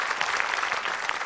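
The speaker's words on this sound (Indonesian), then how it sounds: "Kita kasih tepuk tangan juga" Studio audience at an Indonesian television talk show clapping together, a dense, even wash of applause filling the whole moment with no pauses.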